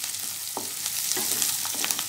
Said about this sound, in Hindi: इसे भी थोड़ा भून लेंगे।